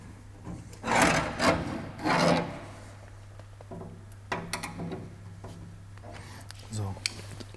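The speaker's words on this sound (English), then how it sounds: "The service hatch on the front of the control unit is unscrewed." Scraping and rubbing with small metallic clicks as the front service hatch on a TWIN BUSCH TW S3.5-10 E scissor lift control unit is unscrewed, close and intermittent over a steady low hum, with someone talking.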